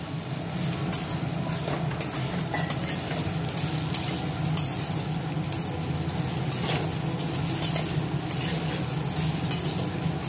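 Rice, mung dal and peanuts sizzle and fry in a pan as they are stirred, a continuous dry rustling hiss with occasional scrapes, steady and close, no talk.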